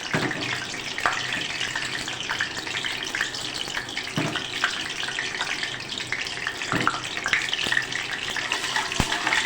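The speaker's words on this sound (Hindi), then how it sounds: "मेथी दाना भी फ्राई कर लेंगे और हींग को भी फ्राई कर लेंगे" Fenugreek seeds and asafoetida fry in hot mustard oil, giving a loud, steady crackling sizzle that runs unbroken throughout with a few sharper pops and no voices.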